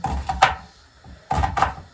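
A knife cuts an onion into half rings on a board, giving two short clusters of crisp chopping knocks separated by a brief pause, close and fairly quiet.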